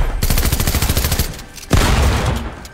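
Submachine gun fire rattles in rapid automatic bursts in a shooting video game, loud and close, broken by a short pause and a heavy blast before more firing.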